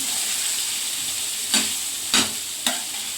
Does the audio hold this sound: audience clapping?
no